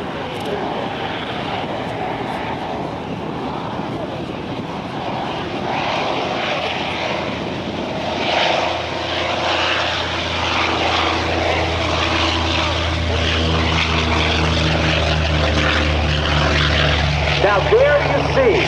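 An F4U Corsair propeller fighter flies at the 2009 NAS Oceana airshow, its piston drone swelling louder and nearer partway through, while an announcer speaks over a public address system.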